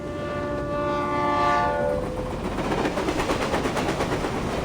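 A train in the video game Reverse 1999 sounds a long multi-tone horn, then rolls on with a rhythmic clickety-clack of wheels over rail joints, loud and steady with no voices.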